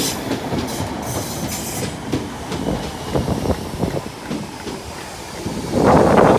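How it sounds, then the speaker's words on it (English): A Southern class 313 electric unit, 313204, pulls into Fratton station on a service to Littlehampton, its wheels clicking and rumbling close by and growing louder with a hissing surge as it draws in. "coming in now will be a Southern service to Littlehampton"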